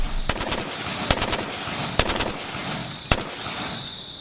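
Four quick bursts of rapid gunfire ring out at intervals over a hissy outdoor background, sharp and fairly close, during night target shooting.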